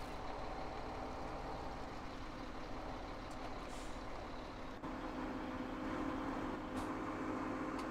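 A truck drives in the video game Farming Simulator 17, giving a steady engine drone with a few faint clicks and hisses, continuous and moderately quiet, with no voices.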